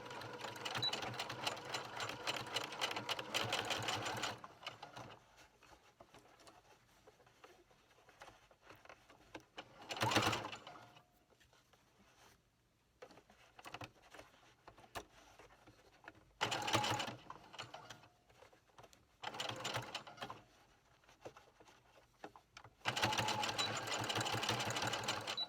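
A sewing machine stitches a fabric face mask with elastic, running in several close bursts of fast, even rattling separated by quiet pauses.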